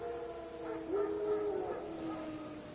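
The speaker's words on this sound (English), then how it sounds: "Wild dogs. Yes. More dangerous than wolves." Wild dogs in The Witcher 3: a single faint, distant howl rises briefly over a low ambient background.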